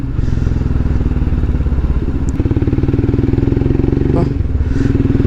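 A motorcycle engine that has sat parked for days idles loudly and close by with a steady, lumpy throb and some clattering, plus a brief revving swell near the end.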